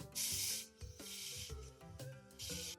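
Bursts of aerosol hairspray-style hissing come in three short puffs, fairly close, during makeup work, with faint background music or tones underneath.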